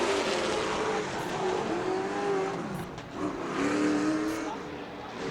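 Stock cars on the last lap of a short-track late model race, fender to fender through turns three and four, engines droning loud and steady with rising and falling pitch as the pack passes, under a track announcer's continuous commentary.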